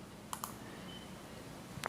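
A few light mouse clicks on a Clevo W230ST laptop applying ThrottleStop undervolt settings, two close together early and a quick double click at the end, over quiet room noise.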